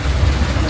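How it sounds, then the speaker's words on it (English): Steady rain falls in a dense, even hiss with a low rumble underneath, heard briefly and loud with no voices. "The way it's raining too."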